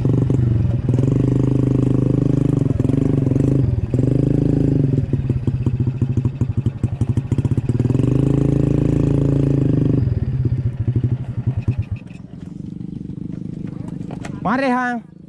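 Motorcycle engine on a village farm road, loud and close, with steady revving surges and rattling throughout; the engine eases off near the end while a voice comes in briefly.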